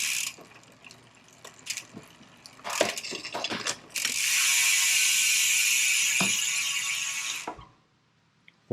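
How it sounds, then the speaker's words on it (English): Gravel bike derailleur shifter trim clicking, several sharp close mechanical clicks and ratcheting, followed by a sustained whirring freewheel buzz that cuts off near the end. "The derailleur does have trim, so it's got the 3 clicks."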